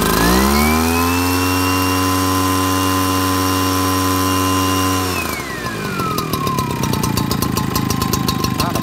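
A Kioritz 55cc two-stroke engine on a Japanese rice-sowing blower runs loud and close, holding a steady high whine, then dropping to a rough, rattly lower idle.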